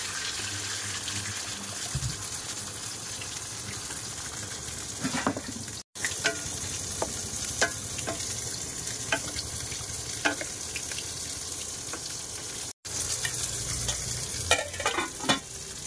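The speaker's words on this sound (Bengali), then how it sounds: "ভালোভাবে মাছ ভাজা করে নিচ্ছি" Steady sizzle of pangas fish frying in a pan, with occasional scraping and stirring clinks over the continuous crackle.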